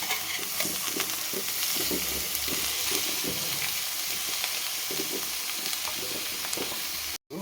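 Bitter gourd pieces frying in oil in a pan, a steady close sizzle with soft, repeated scraping as the pieces are stirred up from the bottom.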